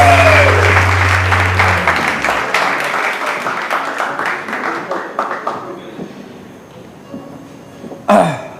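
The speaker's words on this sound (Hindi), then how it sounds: "बहुत सारी तालियां यार" Studio audience applauding on a morning TV show, loud dense clapping that thins into scattered claps and fades, with a brief burst of sound near the end.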